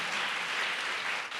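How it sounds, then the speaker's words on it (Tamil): A congregation claps together at a Holy Communion church service, a dense, steady wash of hands held at an even level for a little over a second, with no voices above it. "Let's all clap."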